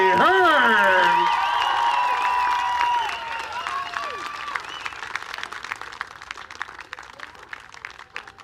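An outdoor crowd at a San Diego Bayfair boat race claps, whoops and cheers for a winning woman driver, loud at first with shrill whistles and shouts, then thinning to scattered clapping.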